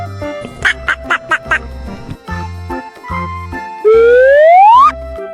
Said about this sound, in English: Duck and duckling.